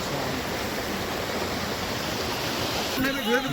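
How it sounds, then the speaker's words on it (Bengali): A mountain stream in hilly country near Kalimpong rushes steadily as a broad, continuous hiss of flowing water, close and unbroken, with a brief faint voice near the end. "এখন তো ক্যামেরা খালি জলের সাউন্ডটা শুনো"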